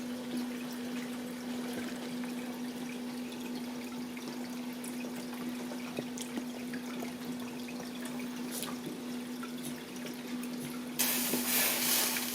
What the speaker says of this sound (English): Oh, we've got it boiling over.